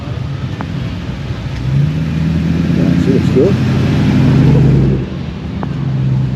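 Car engines idle and rev at the Downunder Beachfest car festival in Queensland in the rain, a steady throaty rumble close by that swells midway, with someone talking over it.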